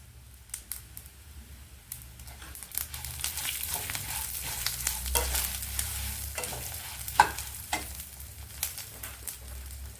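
Mustard and fenugreek seeds fry in a pan for a Telugu chintachiguru kottimeera roti pachadi, giving a steady close sizzle with scattered crackles and pops, plus a few stirring scrapes throughout.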